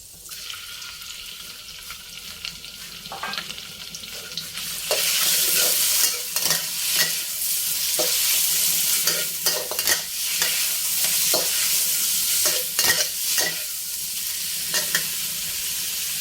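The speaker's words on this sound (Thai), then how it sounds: "เราจะเจีย วกระเทียมให้เหลืองหอมเลยค่ะ ก่อนที่จะใส่เนื้อลงไปผัด" Chopped garlic frying in oil until golden, first a quiet low bubbling, then a loud bright sizzle that swells after a few seconds, with repeated scraping stirs of a spatula, close and without speech.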